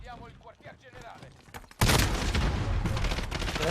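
Dense gunfire in a war video game erupts suddenly after a few seconds of someone talking, then continues as loud, sustained rapid shots and explosions.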